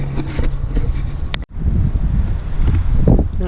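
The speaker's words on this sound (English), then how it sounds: "a bit of wind's kicking up" Wind gusting outdoors around pine trees at a tree-climbing site, a steady broadband rush with microphone buffeting that drops out briefly midway, then returns.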